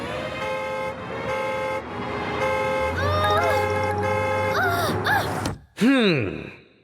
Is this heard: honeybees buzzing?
no